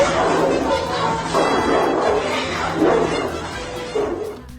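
A guard dog barks and growls in a loud, continuous rush of yips and snarls while attacking an intruder, with scuffling and rough noise mixed in.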